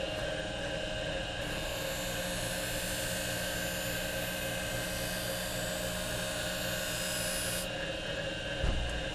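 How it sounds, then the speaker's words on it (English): Skate sharpening machine grinding a figure skate blade, a loud, steady, continuous whine and rasp that holds for nearly the whole stretch before easing near the end. "we're just going to sharpen until it's sharp and everything is squared up"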